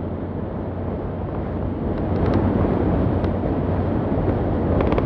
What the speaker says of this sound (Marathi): प्रचंड वारा सुटलेला आहे